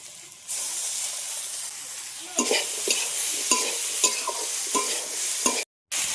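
Chopped potatoes and spices frying in a pan for Bengali ghugni, with salt and chopped tomato added. A steady close sizzle runs throughout, broken by repeated scraping stirs of a utensil against the pan, with a brief silent gap near the end.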